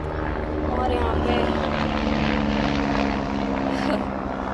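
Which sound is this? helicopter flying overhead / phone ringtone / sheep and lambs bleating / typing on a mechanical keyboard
helicopter flying overhead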